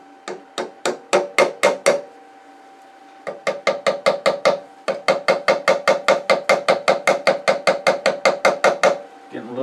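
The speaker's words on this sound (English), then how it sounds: "I'm just going to tap it in now with a handle" A handle taps a wooden box insert into place on a woodturning piece, giving close, loud, evenly spaced knocks in three quick bursts with brief pauses between.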